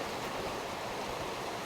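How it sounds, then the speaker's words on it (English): A small waterfall pours steadily into a rock pool, a dense, constant rushing hiss with no breaks, close and fairly loud. "We've got a little waterfall, which is nice."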